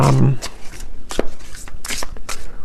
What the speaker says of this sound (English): I just shuffled my deck here, which is the Beyond Mind Oracle